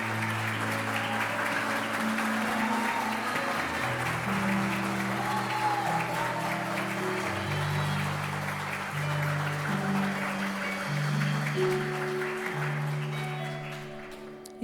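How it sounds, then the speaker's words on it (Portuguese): A church congregation at a family service claps steadily for the whole stretch, a dense wash of hands over sustained keyboard or organ chords that keep playing underneath. "eu gostaria de pedir a vocês uma salva de palmas ao Senhor"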